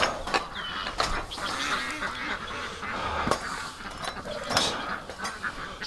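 Loud, harsh quacking from a female duck kept in a backyard pen in winter, repeated bursts ringing out close by over a busy, noisy background.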